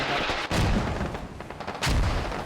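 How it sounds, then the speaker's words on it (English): Mortar rounds exploding in the video game Squad, two heavy booming blasts with rumbling low-end decay, the second arriving about a second and a half after the first, loud and close. "6 mortar rounds, all misses"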